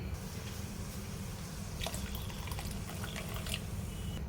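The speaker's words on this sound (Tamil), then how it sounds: "இன்னும் தண்ணியும் ஊற்றுறேன்" Water pours steadily into a pot of rasam with a continuous splashing gurgle over a low background hum, no talking.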